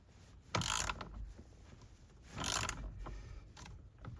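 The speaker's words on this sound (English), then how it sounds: "And then you'll just tighten it up now with your ratchet." Ratchet tightening a bolt on the steering wheel of a 2007-2012 Nissan Versa during clock spring replacement, sounding as a few separate bursts of clicking, close but quiet, with no speech.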